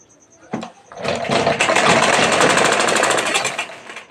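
An electric sewing machine starts after a knock and runs in a loud, steady burst while stitching piping along the edge of a blouse, then slows at the end.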